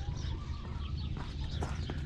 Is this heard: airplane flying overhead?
no